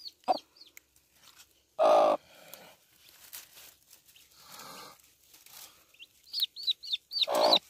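Chickens and newly hatched chicks on a farm, with high repeated peeping chirps from the chicks and occasional louder squawks and clucks from the hens, close by in a quiet setting.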